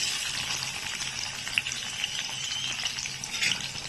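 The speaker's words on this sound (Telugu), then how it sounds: "ఫస్ట్ కొబ్బరి ముక్కలు కొంచెం వేపుకోవాలి" Coconut pieces frying in hot oil, a steady close crackling sizzle with a bright spattering hiss and a few sharper pops throughout.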